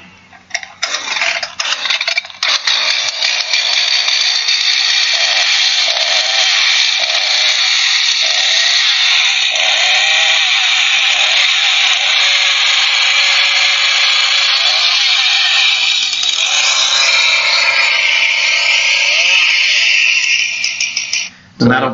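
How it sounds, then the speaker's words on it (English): A chainsaw runs continuously at a loud, steady, high-pitched rasp for about twenty seconds, with a brief drop at the end and some voice underneath. "It's a special medical weapon known as the chainsaw."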